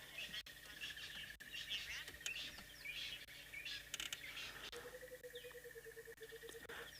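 Wild birds call at sunrise in the bush, with scattered high chirps and a sustained whistled note that repeats, faint and distant over a soft outdoor hush.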